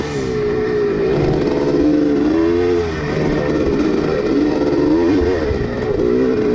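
An old Honda motorcycle races past in a dirt-bike race for riders over sixty, its engine revving loud and close with shifting pitch and a constant, droning roar throughout.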